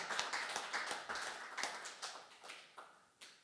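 A church congregation claps during a Sunday worship service, producing a run of about a dozen sharp, separate hand claps that thin out toward the end, moderately near with no voices.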